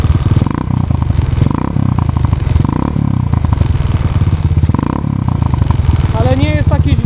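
Loncin 110/125 motorcycle engine fitted with a new aftermarket exhaust, idling and revving with a deep, bassy, fairly strong burble that runs loud and steady throughout, close to the microphone, with people talking over it.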